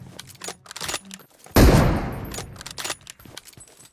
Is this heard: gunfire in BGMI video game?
yes